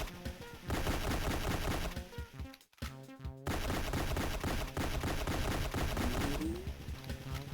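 Rapid gunfire from GoldenEye: Rogue Agent on the DS rattles in dense, continuous bursts with a short gap in the middle, loud and alone without talk.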